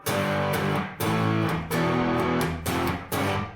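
Fender Stratocaster electric guitar through distortion, strummed chords in a thick overdriven tone, each hit ringing and decaying before the next, about six strokes in close, loud succession with no talking.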